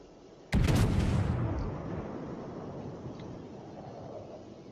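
Battleship Dunkerque's main guns firing in a naval combat video game: one sudden heavy boom that rumbles and decays over a couple of seconds into a low, steady background hum.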